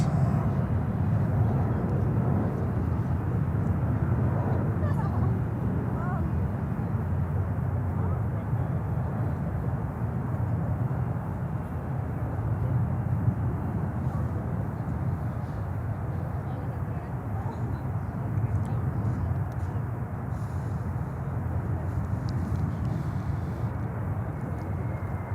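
A jet airliner arriving at Charlotte airport on a flight from Pittsburgh gives a faint, distant, steady roar that holds level throughout, with no talk over it.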